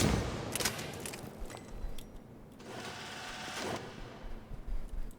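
Valkyrie rifle firing in Mass Effect 3, quiet bursts of rapid shots in short clusters spread over a few seconds, fairly faint under low game ambience.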